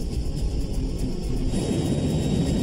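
Steady loud jet roar and low rumble from inside a NASA DC-8 in high-speed, high-altitude flight as a thrust reverser is deployed, a continuous broadband drone filling the whole stretch without speech.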